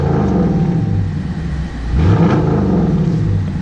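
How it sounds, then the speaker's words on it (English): A 2017 Dodge Charger Daytona with a mid muffler delete revs up close and loud: a steady engine rumble dips briefly, then swells into a sharp rising rev before settling back to idle. "We are going to do a rev."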